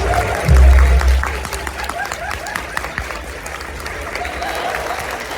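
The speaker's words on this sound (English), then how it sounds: "Now applaud, so it's not awkward." An indoor convention audience at a talent show applauds in a steady wash of clapping, with a low thump at the start and the clapping staying fairly even throughout.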